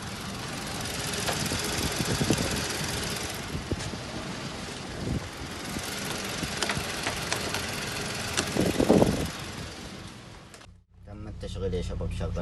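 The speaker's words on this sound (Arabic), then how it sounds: "تم التشغيل يا شباب، شغلنا السيارة بس ما صورت" A Ford car's engine runs after being started following full maintenance. A rough, knocking idle is heard amid wind buffeting on the microphone, with voices talking nearby.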